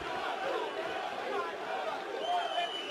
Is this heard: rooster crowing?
no